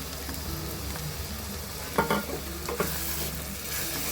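Yogurt-based masala fries in oil for paneer masala while a spoon stirs it, a soft steady sizzle with a few scraping and clinking strokes against the pan, close and fairly quiet.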